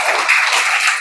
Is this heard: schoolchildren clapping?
yes